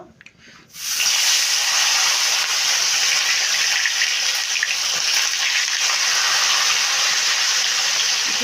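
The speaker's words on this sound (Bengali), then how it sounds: "তেলটা গরম হয়ে গিয়েছে এখন মাছগুলো ভেজে নেবো" Sarputi river fish frying in hot oil in a wok, a loud steady hiss and crackle that bursts in after a brief quiet start and holds strong and close throughout.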